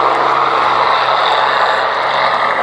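Gloster Gladiator biplane flying at the Duxford VE Day air show, its piston engine giving a steady, loud propeller drone that holds throughout without break.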